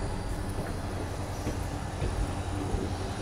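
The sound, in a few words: Barmer Mathura Express train pulling away from small station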